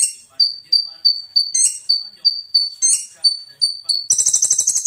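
A trotol green leafbird (cucak ijo) sings about a dozen sharp, crystal-clear piercing whistles in a steady repeated rhythm, ending in a fast rolling trill, close and loud.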